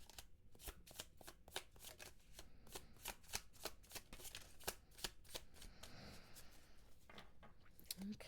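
An oracle card deck being shuffled close up, with a steady run of crisp riffling card flicks throughout and no talking.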